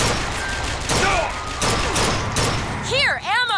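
Gunshots crack in a rapid burst during a BioShock Infinite firefight, with loud reports and mechanical clatter followed by whooshing, swooping game effects near the end.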